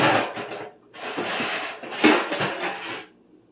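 A metal muffin pan is set down onto a cookie sheet while making banana muffins, giving close bursts of clattering, scraping metal with a short pause between them and no talk.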